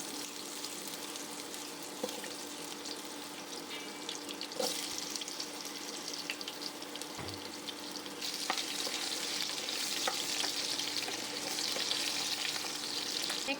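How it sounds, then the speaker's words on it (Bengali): Potatoes fry in mustard oil with a steady, crackling sizzle that swells louder in the second half, broken by a few light knocks of stirring, with no voices. "প্রথমে আমি আলুগুলো ভেজে নেবো"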